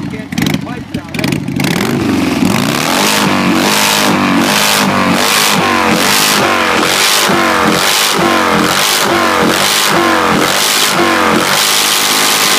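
A motorcycle engine revs hard in repeated, rhythmic bursts, loud and close, with brief voices near the start.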